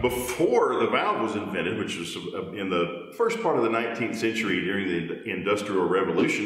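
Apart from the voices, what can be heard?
No distinct noise like a dog, phone or traffic.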